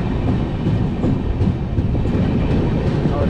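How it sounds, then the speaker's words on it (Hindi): The Poorva Express passenger train rolls on rails as it starts to accelerate, a loud, close, steady rumble with rhythmic wheel clatter throughout. "ये हमारी पूर्वा एक्सप्रेस ने एक्सलेट करना स्टार्ट कर दिया"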